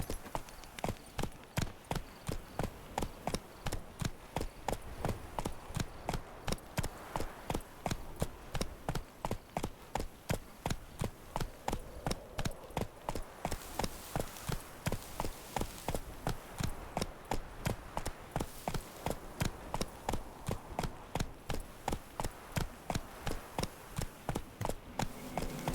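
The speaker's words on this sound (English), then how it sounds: "Whoa there, Roach." Rhythmic clip-clop of a horse's hooves galloping steadily in The Witcher 3, set in Beauclair, loud, close and continuous, with the even beat running throughout.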